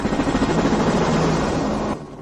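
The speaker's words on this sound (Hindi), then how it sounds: "तुम मेरे हेलीकॉप्टर बेड़े का उपयोग कर रहे हो।" Helicopter fleet overhead, a loud dense rotor and engine roar with a fast chopping pulse that holds steady, then cuts off abruptly near the end.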